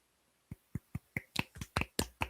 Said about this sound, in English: Golf clap. Golf clap. Golf clap.